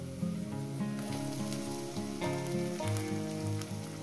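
Tomatoes and onions fry in a pan for spicy egg curry, a soft continuous sizzle and crackle under fairly loud background music.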